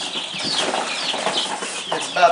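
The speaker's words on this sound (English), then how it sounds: "As we're moving our baby chicks" Baby chicks being moved in a cardboard box, a dense, steady chorus of high peeping and cheeping from many small birds close by, with no talk over it.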